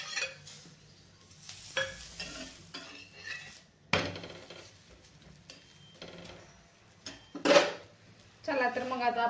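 Aloo paratha roasting on a hot pan, a soft sizzle with scraping and clinks of a spatula against cookware in irregular bursts, close and moderately loud, with no talking.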